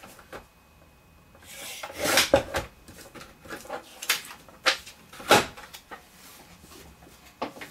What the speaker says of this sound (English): And I'm just trimming it right off.